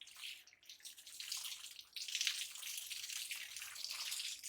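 Water is poured gently over budgies during their bath, a soft continuous trickle and splash with faint patters, quiet and close with no voices.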